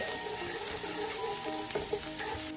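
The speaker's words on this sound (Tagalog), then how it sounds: "So ilalagay na natin itong uh, bawang. Yan na. Halo-halo ng konti." Chopped garlic sizzles in hot oil in a pan for Filipino sarciadong tilapia, a steady bright crackle lasting the whole moment, with a few sharper spatters and light stirring scrapes close by.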